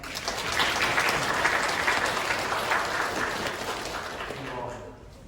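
Sustained applause from a church congregation after a musical performance, steady and fairly loud throughout, tapering off at the very end.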